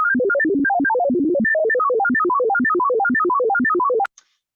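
Rapid sequence of short electronic tone pips, steady and evenly paced, moving from a random pattern of pitches into a regular repeating one, loud and alone before stopping abruptly with a faint click.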